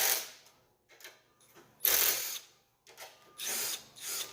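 Loosening a shock spring compressor tool on a KTM 890 Adventure rear shock, close metallic ratcheting and turning in short irregular bursts separated by quiet pauses.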